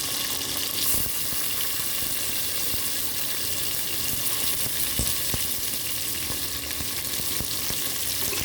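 Chopped tomatoes dropped into onions frying in a pan for mushroom biryani, a steady, dense sizzle close up with occasional sharp crackles and faint stirring scrapes throughout.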